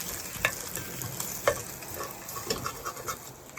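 Potatoes cooking outdoors over a fire in a forest setting, giving a steady soft sizzle and crackle with occasional sharper pops, fairly close and without talk.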